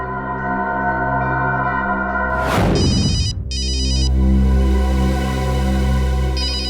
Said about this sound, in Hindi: हो सकता है, ये अखिल का फोन है, उठाइए।